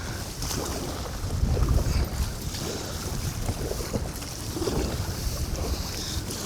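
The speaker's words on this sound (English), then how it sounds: "More big waves." Big waves on rough, windy water slap against a small fishing boat, with a constant roar of wind buffeting the microphone and surging water splashing close by.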